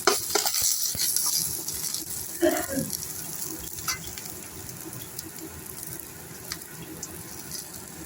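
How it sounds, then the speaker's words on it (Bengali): Sliced eggplant stirred and fried in oil for a fish curry with lentil dumplings, giving a steady low sizzle with scraping stirs, close and moderately quiet, with a brief louder clatter early on. "বেগুনটা একটু তেলের মধ্যে নেড়ে নিচ্ছি।"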